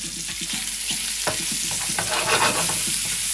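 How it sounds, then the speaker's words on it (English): Prawns fry in a pan over moderate heat, a steady close sizzle with repeated scraping stirs and clicks of a utensil against the pan, no voices. "Now I'm going to put in the prawns."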